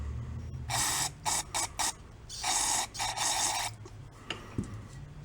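Cleaning fluid sprayed through the carburetor of a 1962 Homko snowblower, several short hissing bursts of uneven length, close up, with a small clack near the end and no talking.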